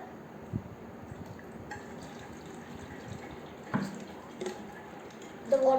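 In a homemade fountain experiment, air forced through a straw pushes water up through a holed section, giving faint dripping and soft liquid burbling over low background noise, with a few small sharper splashes and a brief squeak near the end.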